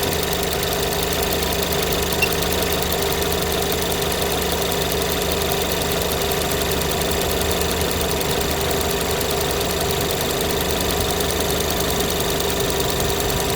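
A car engine with a weak battery runs steadily during a charging system test, a continuous close humming drone with a slight knocking texture and no talk.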